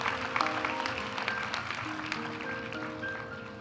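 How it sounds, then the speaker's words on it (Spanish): Audience applause for master's graduates at a university graduation ceremony, a steady, even wash of clapping through the whole stretch, held at a moderate level with faint ringing tones underneath. "Aplaudimos ahora a los graduados de la maestría en regulación."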